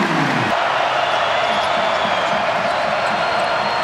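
A packed college basketball crowd at the Petersen Events Center during a Clemson vs Pittsburgh game roars steadily, a dense, loud wash of cheering that carries from start to finish after a made three-pointer.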